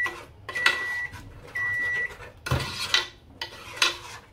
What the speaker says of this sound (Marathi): परत परतवायचं थोडंसं.